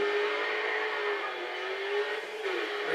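Race car engine in the Grid 2 video game, a steady high-pitched whine holding a constant loud pitch, then a brief dip and recovery as the car shifts, with no talking.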